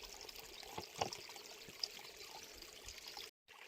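Water is squeezed through a brand-new Sawyer Squeeze filter outdoors, a faint steady trickle and pour with a couple of small splashy spikes, close but quiet, cutting out briefly near the end.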